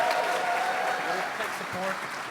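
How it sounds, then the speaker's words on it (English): An audience at a New York Comic Con 2019 Star Wars books panel claps continuously in a dense, steady round, with a voice talking over it. "One more round of applause for Mark Thompson, everyone."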